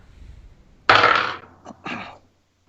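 Dice clatter across a table during a Dungeons & Dragons session of The Lost Mines of Phandelver: one sharp, close rattling roll followed by two shorter tumbles, with no talking.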